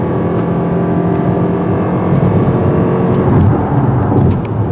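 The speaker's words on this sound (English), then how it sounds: "Acceleration is not a tire burner, but we got enough grunt to reach 60 miles per hour quick enough" A 2022 Lexus NX 350h hybrid SUV accelerating in sport mode, a steady loud engine drone with a slight rise in pitch and intensity as it picks up speed, heard from inside the cabin.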